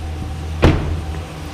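A single sharp thunk is heard as the hood of a used Chevrolet Silverado 2500 pickup is released and opened. It is close and brief, set against a steady low hum.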